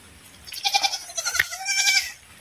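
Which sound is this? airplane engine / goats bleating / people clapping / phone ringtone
goats bleating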